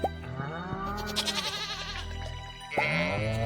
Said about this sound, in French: nous avons désormais des cochons, ici et là, des moutons, ici et là, des chèvres, ici, là